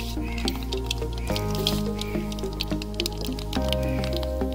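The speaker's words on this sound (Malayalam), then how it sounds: "കടുക് പൊട്ടിയിട്ടുണ്ട്." Mustard seeds crackle and pop in hot coconut oil in a pan for a Kerala ginger curry, scattered tiny snaps running continuously over a steady tonal background.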